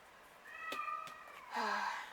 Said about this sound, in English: Like my cat. He wants to go outside again.